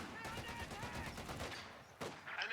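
Machine gun fire in the World War II strategy game Company of Heroes 2, a dense, rapid rattle of shots with broadband crackle through most of the moment, ending in a sharper burst, with a voice talking over it.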